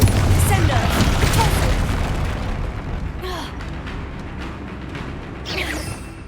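A spell explosion during a troll fight in Hogwarts Legacy: a heavy, rumbling boom that slowly decays. Softer whooshing bursts follow, and voices come and go.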